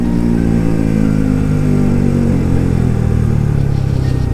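Bajaj Pulsar RS200 motorcycle engine running unevenly after a spark plug change, a loud, steady close-up drone with a rough, slightly wavering tone throughout.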